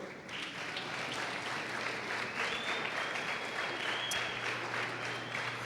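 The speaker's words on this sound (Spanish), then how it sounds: "Aplaudo otra vez." Fairly faint but steady applause from a church audience during a sermon, a continuous patter of many hands clapping with no voices over it.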